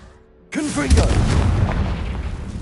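A Confringo blasting spell in Hogwarts Legacy erupts suddenly after a brief quiet moment into a loud, booming explosion with a rumbling tail, and a voice can be heard over the blast.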